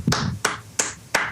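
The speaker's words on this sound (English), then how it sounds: "I like to clap for celebrities." Four sharp, evenly spaced hand claps ring out crisply, each a short bright snap with a quick decay, close to the listener in a quiet room.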